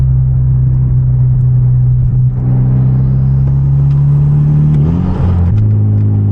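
Stock Hyundai Genesis Coupe with a manual gearbox on a night drive, its exhaust droning loud and steady with a deep, choppy rumble that shifts pitch slightly near the end.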